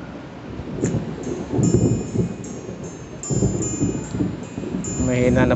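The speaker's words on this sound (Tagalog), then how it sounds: "Mas malakas pa po yung kulog ngayon." Low rolling thunder rumbles in several swells over a steady hiss of rain, with a brief higher tone near the end.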